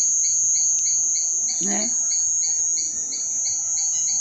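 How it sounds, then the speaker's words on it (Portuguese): Crickets chirp in a steady, continuous high trill with regular pulses throughout, joined by a short burst of soft sound near the middle and a brief spoken word. "Os grilos louvando ao Senhor"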